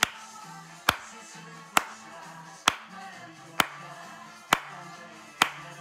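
Worshippers in a church congregation clap in unison during praise, sharp regular claps about every 0.9 seconds, with soft background music or murmuring between them.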